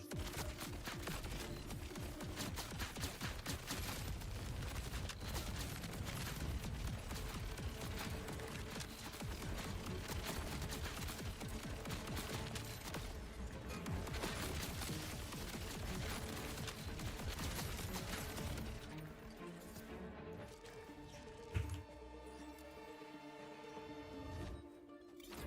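Dense, continuous gunfire from sniper and shotgun weapons in a video game, a loud relentless barrage that thins out near the end into quieter ambience with one sharp isolated shot.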